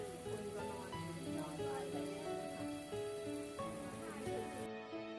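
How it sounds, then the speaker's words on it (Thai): Steady rain falls on a surface outside a rural home kitchen, a continuous, fairly loud patter that runs throughout with faint voices and tonal sounds over it. "ฝนตกลินลิน"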